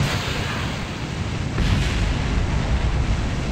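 Roar of a rocket launch in the space game Kerbal Space Program, a steady loud rumbling blast with a windy, noisy texture that swells louder midway and keeps going without pause.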